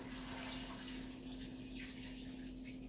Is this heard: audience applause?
no